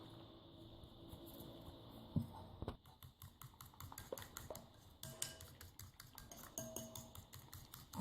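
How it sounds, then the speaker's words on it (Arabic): Flour, water and salt are stirred into a yeast dough in a bowl, making quiet, rapid, repeated clicks and scrapes of a utensil, soft and close with no talking. "وغادي نخلطوا العجين ديالنا."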